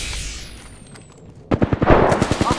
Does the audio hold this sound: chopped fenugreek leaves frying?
no